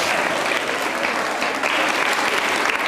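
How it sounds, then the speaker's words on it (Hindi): Loud, sustained applause from an audience at a college quiz show awards presentation, a thick, even roar of many hands clapping with no break and no talk over it. "तालियां बजाइए आभार प्रदर्शन के लिए जोरदार तरीके से."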